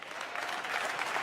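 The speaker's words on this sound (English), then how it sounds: "Y'all can give that a round of applause." An audience at a Blexit speaking event breaks into steady, dense applause, a continuous wash of many hands clapping at moderate loudness without pause.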